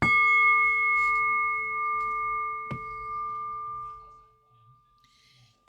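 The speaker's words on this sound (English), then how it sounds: "And by the sound of the bell" A bell used in a blessing ritual rings twice: a clear, bright first strike that sustains and slowly fades, then a second struck partway through before the tone dies away into near silence.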